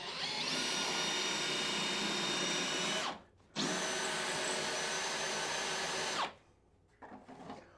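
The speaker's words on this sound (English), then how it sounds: "So we'll go ahead and drill this." A power drill whines loudly at high speed in two long bursts separated by a short pause, close up, drilling into a foam shower curb, followed by quieter handling noise.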